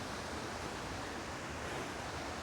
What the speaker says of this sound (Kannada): ಮೇಲೆ ಬಂಡೆ ಮೇಲಿಂದ ನೀರು ಬೀಳ್ತಾ ಇರುತ್ತೆ.